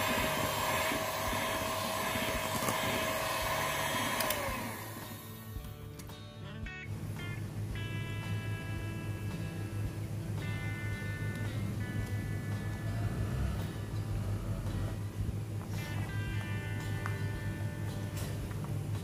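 An electric mixer beats margarine, butter and sweetened condensed milk with a steady, loud motor whine that shifts pitch partway through and runs without a break.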